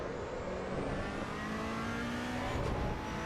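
A Ferrari GT3 race car's engine drones steadily at high revs in the Assetto Corsa EVO racing game, loud and continuous with a slight pitch shift, no voices.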